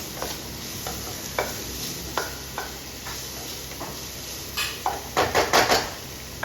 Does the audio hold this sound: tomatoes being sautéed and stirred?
yes